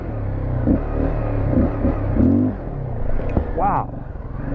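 A big, heavy motorcycle rides over rocks and logs, its engine rumbling low and close with uneven surges and a few knocks, while someone talks over it.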